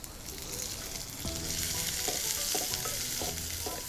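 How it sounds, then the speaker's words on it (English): Loud sizzling from ginger and spring onion hitting smoking-hot oil over high heat, a steady hiss with sharp crackles and pops, heard up close with no talking. "Make sure it's on a high heat, smoking hot, and my ginger and spring onion goes in first."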